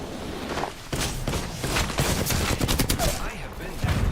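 Overwatch video game gunfire, loud rapid bursts of shots in quick succession with short pauses, mixed with other game effects.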